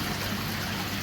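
Water trickles out of an outdoor koi pond in a cold, frosty setting, a soft continuous babbling flow heard close and fairly quiet.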